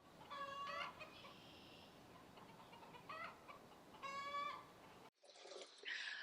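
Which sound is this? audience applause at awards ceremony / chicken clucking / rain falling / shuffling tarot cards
chicken clucking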